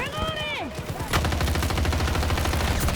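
M16A3 assault rifle fire in the video game Battlefield 2042, loud rapid automatic bursts that run continuously after a brief tonal sound at the start.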